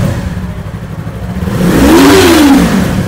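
Yamaha MT-03 321 cc motorcycle engine revving up toward 13,000 rpm, starting at a rough idle rumble then rising into a loud, climbing high-pitched rev that peaks and eases off, close and alone.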